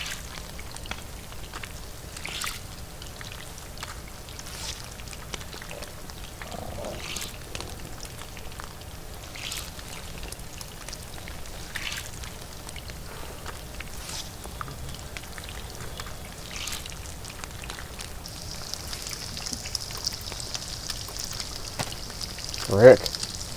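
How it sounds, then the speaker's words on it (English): Heavy rain in the video game DayZ, a steady soft patter of drops with scattered louder taps and a brief hiss near the end. "That rain was freaking heavy"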